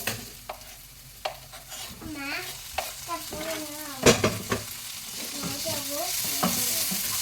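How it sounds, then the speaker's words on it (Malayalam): Sliced onions and small shallots sautéing in hot oil after garlic for a prawn roast, crackling sizzle with spatula scrapes and stirring knocks, close up with no talk. "അപ്പോൾ സവാള സോട്ടാകുന്നുണ്ട്"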